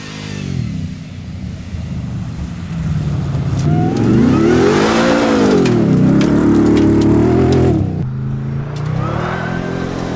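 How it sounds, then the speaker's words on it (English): Ford F-150 Raptor R engine revving hard while driving, a loud, close engine roar that swells in a long rising and falling pull before easing off near the end. "There's a quick little rip in the Raptor R."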